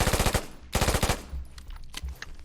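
Kriss Vector submachine gun firing in the Polygon video game, two rapid full-auto bursts up close, followed by scattered lighter shots and clatter.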